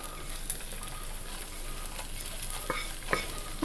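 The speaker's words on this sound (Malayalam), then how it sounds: "ഇനി നമുക്ക് വറുത്ത് വെച്ചിരിക്കുന്ന തേങ്ങയും നട്ട്സും കിസ്മിസും കൂടെ ചേർക്കാം" A spoon stirs a pot of rice payasam for the Vishu festival after fried coconut, nuts and raisins are added, giving a steady soft scraping and sloshing with a few sharper clinks, close and fairly quiet with no voices.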